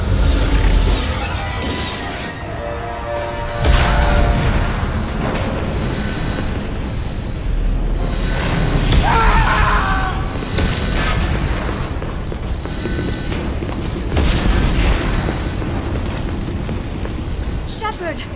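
Explosions rock a starship under attack in a sci-fi video game, with booming blasts and crackling bursts layered over alarms and continuous shouted dialogue from the crew.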